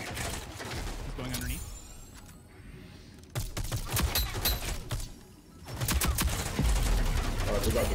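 SMG gunfire in the online shooter Rogue Company comes in short automatic bursts and sharp single shots, with quieter gaps in between and a loud stretch near the end. Game effects and a voice sit underneath the firing.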